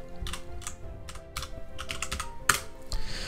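Computer keyboard keys clatter in quick irregular bursts as a server name is typed into a filter box, close and fairly quiet, with one sharper keystroke near the end.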